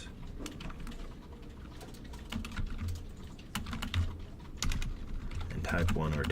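Continuous rapid typing on a computer keyboard, close and clear, with irregular key taps and occasional heavier strokes and no voices.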